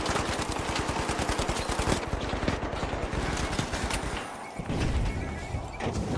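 Sustained rapid automatic fire from a deployed turret in The Finals, a dense loud rattle of shots running nearly the whole time with heavy impacts and debris crashes mixed in, no talking.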